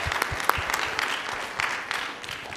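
A short burst of conference-panel audience applause, many hands clapping fairly quietly and evenly for a couple of seconds with no talk over it.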